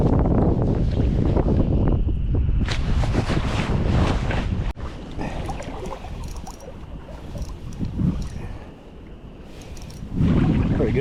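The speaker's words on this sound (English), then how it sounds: "Especially with it as windy as it is." Strong wind buffets a small fishing boat on high, choppy water in early March, a loud continuous roar with gusts that rise and drop, briefly easing before surging hard again at the end, with no talk.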